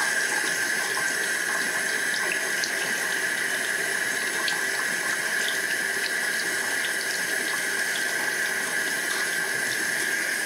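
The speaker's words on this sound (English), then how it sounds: "And now I'm going to rinse my dentures with cool water." Cool tap water pours continuously into a sink as dentures are rinsed under the stream, an even, close hiss and splatter that holds steady throughout with no voices.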